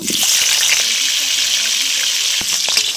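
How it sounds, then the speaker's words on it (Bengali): Potatoes frying in hot oil in a kadai: a loud, constant bright sizzle that fills the whole moment, with a voice talking underneath it. "তো আমি কড়াইতে তেল দিয়ে দিয়েছি, আলুগুলো আমি ভেজে নেব"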